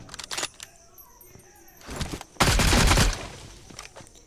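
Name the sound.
gunfire in the video game PUBG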